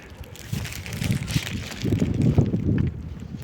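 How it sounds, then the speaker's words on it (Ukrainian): Cold gusting wind buffets the microphone in low rumbling surges, rising and falling over a few seconds outdoors. "Якби не оцей вітер холодний, було б усе добре."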